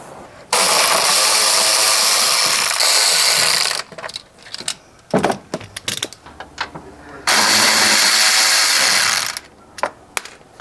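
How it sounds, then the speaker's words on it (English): A power tool removes 10 mm bolts from the fender liner of a BMW G80 M3, two loud sustained whirring bursts of a few seconds each, separated by clattering handling noises. "I'm gonna take off these 10 mils and then take off the fender liner"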